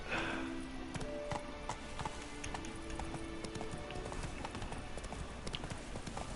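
Roach, the horse in The Witcher 3 game, gallops with a rapid, steady clip-clop of hooves close by, a brief neigh near the start, over game ambience.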